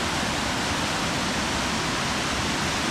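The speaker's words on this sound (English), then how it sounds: "So to me, that makes this particular waterfall really quite spectacular. And those rapids go on for a long," Waterfall and rapids beside a hiking trail, a steady broadband roar of rushing water filling the scene, loud and continuous without pauses.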